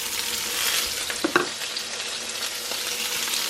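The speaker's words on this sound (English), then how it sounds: "So now to the pan we're gonna add the bottoms of the white scallions, the halve tomatoes" White scallion bottoms and halved tomatoes dropped into a hot pan for a sauce, crackling into a loud, steady sizzle with a few stirring clatters, close and without talk.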